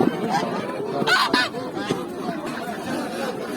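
Geese honking repeatedly at a crowded poultry market in Sabunchu, Azerbaijan, with overlapping calls and background chatter from people nearby.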